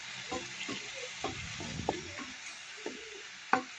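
Sautéed patola (sponge gourd) and chicken being stirred in a pan, with scraping strokes over a steady frying sizzle and an occasional sharp clink of utensil on metal.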